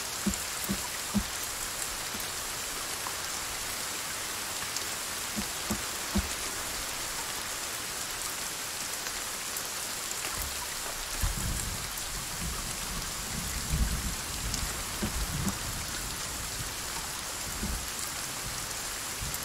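Rain falls steadily in the survival video game Sons of the Forest, a constant soft hiss with scattered pattering drops and a faint low rumble toward the end, no voices.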